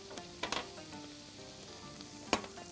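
Onions sizzle steadily while frying in a pan, with a few scraping clacks of stirring near the start and one sharp knock near the end, no talking.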